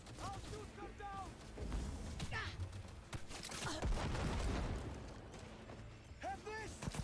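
Several bursts of gunfire from the video game Cyberpunk 2077 rattle off in short volleys with small impacts, set against a dense, busy mix of combat noise and shouting voices.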